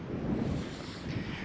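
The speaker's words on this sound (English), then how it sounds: "Holy crap, that was windy." Strong wind buffeting the microphone on an island peak, a steady loud rushing roar with no voices.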